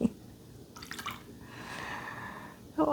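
Water splashing during a watercolor painting session, a short wet splatter followed by soft dripping, close and fairly quiet, with faint breathing around it and no talking.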